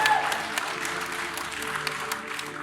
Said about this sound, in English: Round of applause for Grace, guys.